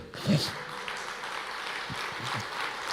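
A church congregation applauds during a worship service, a steady wash of clapping running under a brief voice near the start.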